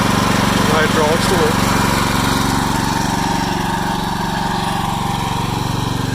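A hydraulic power pack on a Faymonville Megamax or Multimax trailer hums and runs steadily at close range, a constant engine-like drone with faint voice traces over it.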